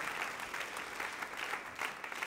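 A church congregation claps loudly and steadily at a sermon, a continuous wash of applause from many people that holds evenly from start to finish.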